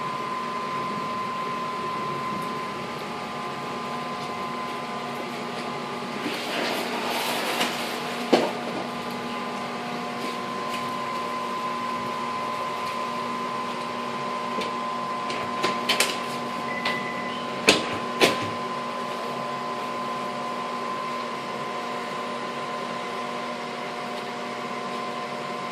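An HHO gas cooking stove with banks of burner jets runs wide open, giving a steady hissing drone with a tonal hum, occasional brief bursts and clicks, and no flashback.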